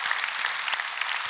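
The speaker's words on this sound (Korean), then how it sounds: "우리 목자님들 한번 박수해 주세요." A church congregation applauds at a special dawn prayer service in a Korean church, with a dense, steady patter of many hands clapping together throughout.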